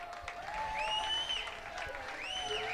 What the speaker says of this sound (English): Delikowski gets a big hand from the crowd as he comes off the field